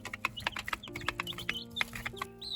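Chicks in a brooder peck at their food and bedding, making quick, scattered tapping clicks and soft peeps and clucks close by.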